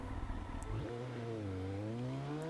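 A Honda CBR1000RR Fireblade motorcycle fitted with a CG Project exhaust idles low, then its engine note climbs smoothly as the throttle is opened. The sound is fairly quiet and heard without talk.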